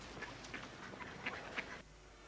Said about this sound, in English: Bloody ducks.